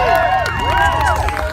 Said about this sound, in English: Guys, let's cheer them on.